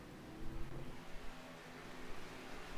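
Several race cars circle the track at Talladega in a stock-car racing video game, a steady broadband engine roar with rising and falling swells, fairly quiet and continuous throughout.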